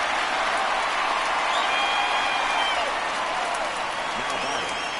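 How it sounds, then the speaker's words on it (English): A virtual stadium crowd in the baseball video game MLB The Show 19 cheers in a broad, steady roar with a few whistles rising over it, sustained throughout. "Getting a good cheer from the fans"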